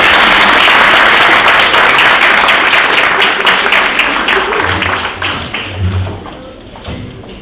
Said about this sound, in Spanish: ahora sí le damos un fuerte aplauso.